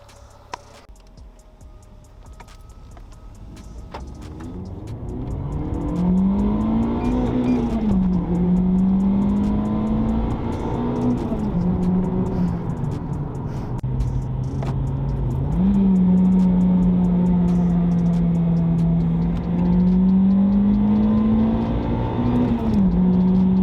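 A Renault Clio RS 200 Cup Pack (MK3) drives along, its engine note droning steadily and rising and falling as it accelerates and shifts, heard from inside over road noise with no talk.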